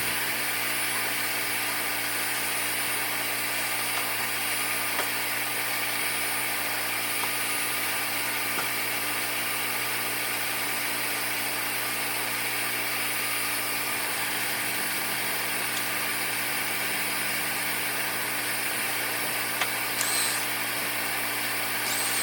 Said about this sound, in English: Vacuum it with the water extractor.